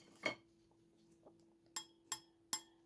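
A large vintage glass wine goblet is tapped with an object, giving one light clink, then a few faint ticks, then three sharper, short, dull ringing taps in steady succession, close and quiet.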